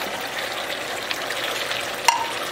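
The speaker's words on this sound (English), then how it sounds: "now I'm gonna add the onion and the chilies" Chicken vindaloo sizzles steadily in a pan as onion and chilies go in, a continuous frying hiss with a single sharp clink near the end and no talking.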